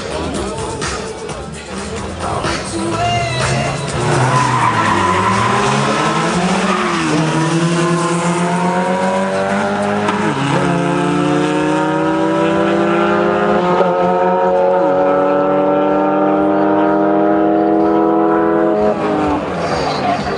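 A Suzuki Maruti 1.6 race car, tuned to 170 hp, skids on a track with tires squealing and the engine revving hard through rising gear pulls, loud and close, with a commentator talking throughout.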